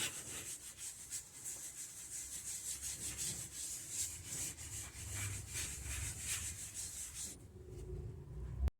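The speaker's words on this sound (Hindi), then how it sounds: "हमने हल्का हल्का इसको फॉर्म से ऐसे करके लगा लेना" A foam pad rubs polish onto a car dashboard in circular motions. The close, soft scrubbing strokes repeat steadily for about seven seconds, then stop.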